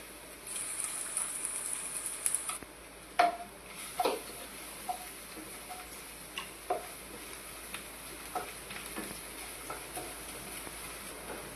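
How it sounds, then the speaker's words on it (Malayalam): Ginger and garlic dropped into hot oil in a pan for a paneer masala, a soft steady sizzle broken by sharp clicks and scrapes of stirring, close and fairly quiet. "ഈ എണ്ണയിലേക്ക് നമുക്ക് ഇഞ്ചി ഇട്ട് കൊടുക്കാം, വെളുത്തുള്ളി ഇട്ട് കൊടുക്കാം"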